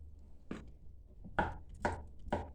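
Meat for kelle paça soup being chopped on a board, four sharp separate knife strikes spaced unevenly, close and clear with no talk.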